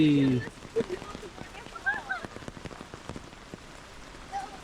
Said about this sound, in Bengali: প্রচুর বৃষ্টি